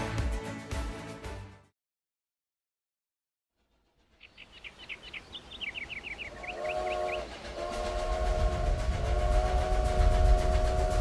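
After a short silence, a train chugs up with rising rumble, a bright chirping whistle sounds, then a steady steam whistle blows as the clatter grows louder.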